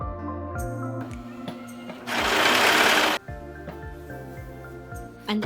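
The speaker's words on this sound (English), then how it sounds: "go ahead and stitch them together. You just fold each piece of strap in half and stitch straight down" A sewing machine stitching folded fabric dress straps, with short bursts of rapid mechanical whirring, one longer continuous run in the middle, and clicking pauses between them.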